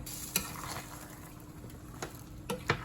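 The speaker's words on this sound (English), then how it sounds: "So let's stir it." Tagliatelle with mozzarella cheese is stirred in a pan, a soft scraping and sizzling texture with a few light utensil knocks against the pan, faint and close.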